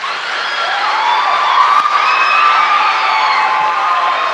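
College audience in a hall clapping and cheering loudly, a dense sustained roar of applause with whoops and shouts throughout.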